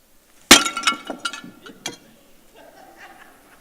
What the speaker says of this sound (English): Jeremiah picks up the pottery and he smashes it.